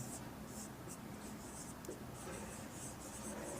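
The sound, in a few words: writing on a board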